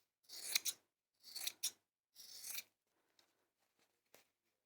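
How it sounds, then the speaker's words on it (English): Sewing scissors trimming fabric back to the seam, three close bursts of crisp cutting, followed by a few faint snips and small clicks, no voices. "I'm just literally trimming it back."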